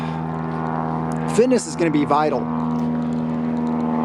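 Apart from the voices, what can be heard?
propeller airplane flying overhead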